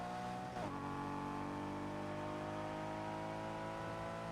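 Loud, steady engine drone of a car in a PC video game, a continuous even hum held at a constant pitch with a brief shift near the start.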